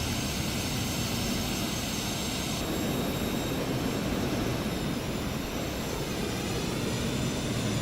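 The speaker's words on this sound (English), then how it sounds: "Let's watch Holden come in for a landing." A Cessna Citation Sovereign+ business jet comes in to land in Microsoft Flight Simulator 2024, its steady broadband engine roar holding at an even level throughout with no voices.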